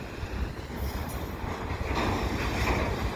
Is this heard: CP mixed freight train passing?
yes